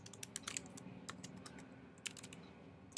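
Computer keyboard typing in quick irregular bursts of crisp key clicks, close and fairly quiet, with no voices.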